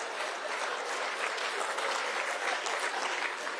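A crowd at a public event with a state minister gives steady, dense applause, many hands clapping evenly and loudly throughout.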